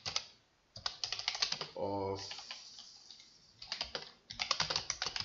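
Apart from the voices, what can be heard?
typing on computer keyboard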